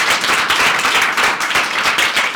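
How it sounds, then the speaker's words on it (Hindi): A seated audience at a personality development talk claps loudly and vigorously for a guest, a short burst of thick, close crowd applause with no pause. "तो मेरा ख्याल जोरदार तालियां मोहित जी के लिए"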